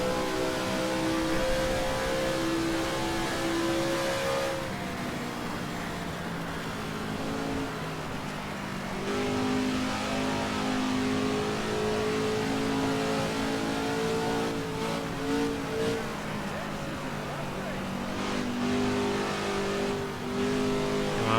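Mid-1960s Indy 500 race cars lapping in Assetto Corsa, a loud engine drone rising and falling through gear changes as cars pass close by, with several engines overlapping throughout and no talk.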